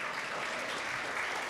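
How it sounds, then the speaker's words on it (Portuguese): A church congregation applauds in a dense, even wash of clapping that holds steady and moderately distant for the whole short stretch. "Vamos aplaudir o Senhor por cada vida que está aqui,"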